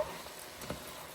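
Cabbage and potato curry being stirred in a hot pan, with a soft steady sizzle and faint scraping, quiet and close, with no talking.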